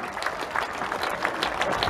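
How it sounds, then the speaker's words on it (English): Crowd applause from an outdoor audience at a seaside air show, steady dense clapping heard at a distance, moderately faint, with some cheering mixed in. "please give them a big round of applause"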